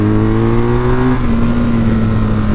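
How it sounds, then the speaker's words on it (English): BMW R 1250 GS motorcycle engine braking on the road, a loud, steady close-up engine drone that drops in pitch partway through as revs fall, with heavy wind rush throughout. "Good amounts of engine braking, which is lovely for stuff like this."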